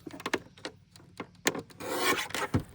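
Old book pages being trimmed by hand, with repeated short rasping, rubbing strokes of a blade or paper edge close by, in an irregular rhythm with a longer scratchy swipe near the end.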